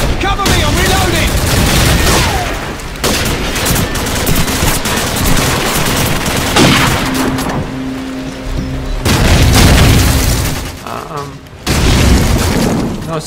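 Loud, dense bursts of automatic gunfire and heavy booms from a thrown frag grenade in Call of Duty 4 keep crashing in over continuous player talk.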